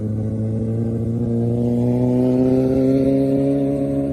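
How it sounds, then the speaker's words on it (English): A motorcycle engine runs steadily and close up, its low harmonic drone rising slightly in pitch as the bike is ridden, with no talk over it. "I'm on a motorcycle."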